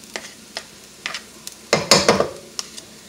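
Rice, butter, oil and onion stirred in a pan for Mexican rice: light scraping and clicking strokes at intervals, with a louder sizzling, scraping flurry midway.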